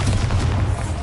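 A Bombarda explosion spell in Hogwarts Legacy goes off as a loud, heavy boom with a deep rumbling low end. The blast fills the whole short moment without letting up.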